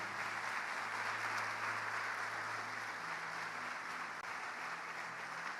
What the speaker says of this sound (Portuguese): Quem crê junto com essas irmãs aí, dá glória a Deus e aplaude Jesus.